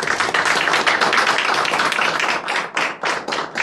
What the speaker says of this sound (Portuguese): queria pedir uma salva de palmas para eles